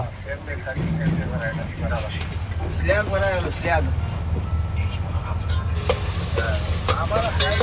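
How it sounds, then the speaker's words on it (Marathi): Tomato, onion and chili fry in oil with a steady close sizzle and occasional stirring, while a person talks over the cooking. "टमॅटो कांदा मिरची तेलात मस्त असं भाजून घ्यायचं"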